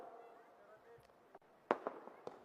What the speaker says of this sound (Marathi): माझ्या मागे कोणी फटाके लावले बंद कर ते फटाके